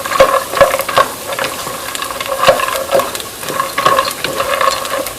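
A spoon stirs pasta toasting in a pot for one-pot risotto-style pasta, making repeated close scraping strokes in an uneven rhythm over a light, steady sizzle.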